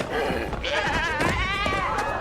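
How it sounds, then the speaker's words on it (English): Goats bleat in a few wavering, nasal cries close by, mixed with some background voices. "Come on, goats."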